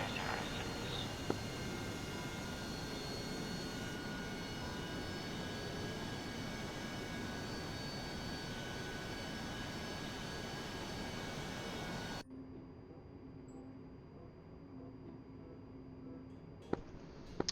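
Continuous jet engine hum and whine from an A-10C taxiing on a runway in the DCS flight simulator, steady and fairly loud, then dropping to a quieter interior drone with a few clicks near the end.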